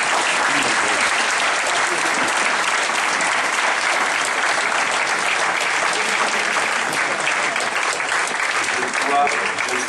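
A large audience at a gala applauds continuously, a dense, loud, even wash of many hands clapping at once that holds steady throughout with no break.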